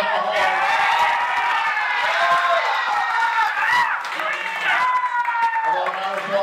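A crowd at a World Series of Poker tournament table applauds and cheers for an eliminated player, steady clapping and whoops throughout while a voice talks over it.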